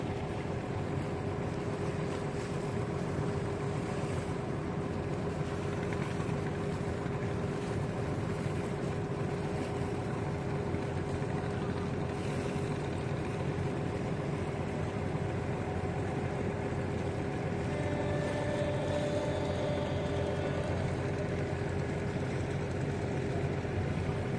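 A boat engine drones steadily on a busy river at the Mongla ferry ghat in Bagerhat, with wind and water wash mixed in, continuous and moderately distant, with no talking.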